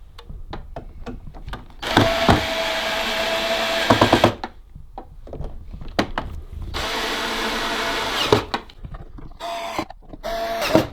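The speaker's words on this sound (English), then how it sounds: "And now we need to get the screwdriver and do up the 4 screws." A screwdriver tightens the four screws on a Samsung G9 monitor stand. It gives two long stretches of grinding, rasping turning, separated and surrounded by sharp clicks and knocks. The sounds are close and loud, with no talking.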